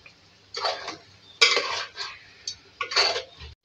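A metal spoon stirs beef, turai and potato curry in a pot, giving a few separate scraping, clinking strokes, loud and close, with no talk.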